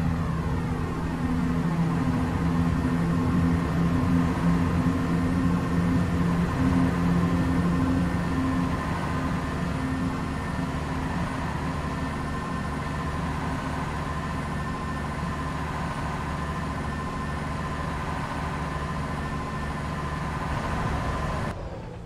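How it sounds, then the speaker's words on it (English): A train from Train Simulator 2021 rolls along steadily under its own control, a continuous low rumble with a sustained hum and faint rail clatter, even in level and close throughout. "So here comes the AI train on the other side of the route."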